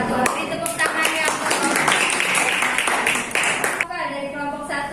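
Audience clapping at a teaching performance assessment session in a classroom, a dense steady patter of many hands lasting several seconds, with voices mixed in and a speaking voice emerging near the end.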